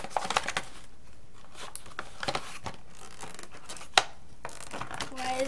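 An Amazon package being torn open by hand without scissors, with bursts of ripping and crinkling packaging, a sharp snap partway through, and a voice briefly heard.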